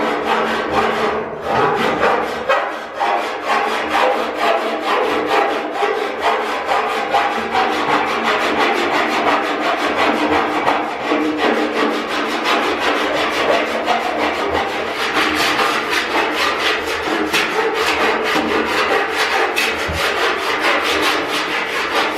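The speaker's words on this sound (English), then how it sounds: "All filed nicely back to shape." Lead body solder on car bodywork is worked with a hand file, making loud, close rasping strokes in a steady back-and-forth rhythm that continues without pause.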